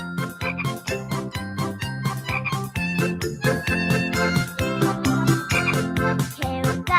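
Cartoon frogs croak over a bouncy, tinkling animated soundtrack, the croaks blended into steady rhythmic music that runs loud and continuous for several seconds.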